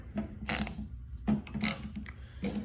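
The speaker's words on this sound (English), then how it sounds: "I'm running the 1/2 inch gear wrench flex head ratchets on here." GearWrench 1/2 inch flex head ratchet clicking in a few short bursts of rapid ratcheting, close and fairly loud, separated by brief pauses, with no talking.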